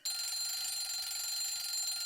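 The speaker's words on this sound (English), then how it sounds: "Okay, so his alarm clock rings." An alarm clock rings in the visual novel If My Heart Had Wings: a steady, continuous electronic beeping with bright high tones that fills the whole moment at even loudness, with no one talking.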